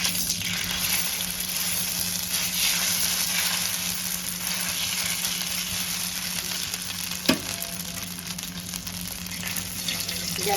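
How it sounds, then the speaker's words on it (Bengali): Ground batter frying in oil on a tawa over a low flame, a steady close hiss and sizzle running unbroken throughout, with one brief tap partway through and no talk. "একটু ভাজা হতে দেব।"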